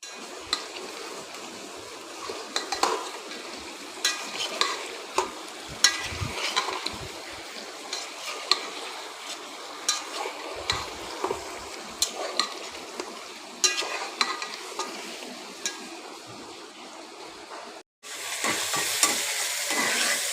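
Prawns frying with onion, turmeric and salt in a pan, a steady close sizzle broken by frequent clicks and scrapes of stirring throughout.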